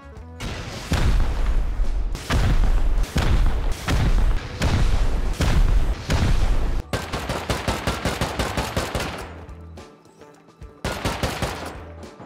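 Rockets and gunfire in a Rust base raid: a fast run of loud, heavy blasts and booms, then rapid cracking shots, a brief lull, and one more burst of explosions.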